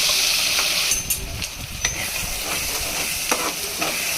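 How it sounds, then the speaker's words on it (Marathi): Masala with cumin and asafoetida frying in hot oil gives a steady loud sizzle, with occasional stirring scrapes and crackles over the continuous hiss, close up and without speech. "जिरे हिंग टाकून घेऊया त्याला आता तेलात हा मसाला टाकून घ्यायचा आपल्याला"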